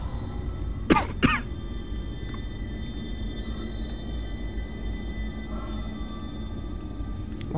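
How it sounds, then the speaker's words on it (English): Two sharp coughs land right into a microphone near the start, loud and close, followed by a quiet steady hum of background game sound. "I'm gonna just cough straight into the microphone as much as possible."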